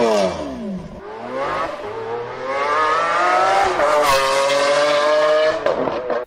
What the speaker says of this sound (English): You'll notice this Aventador SV sounds very similar to a 90s legend.